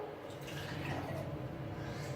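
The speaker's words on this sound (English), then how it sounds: "So I'm going to fill my main flask up with water." Tap water poured from a cup into a flask: a steady, close gushing and trickling stream that keeps going for the whole stretch with no talking.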